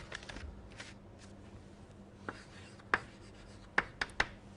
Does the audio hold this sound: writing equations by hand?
yes